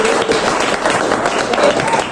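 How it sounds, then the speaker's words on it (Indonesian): Classroom applause as children and adults clap together during a teaching practice session, a short burst of steady, fairly loud clapping. "Oke, tepuk tangan dulu dong"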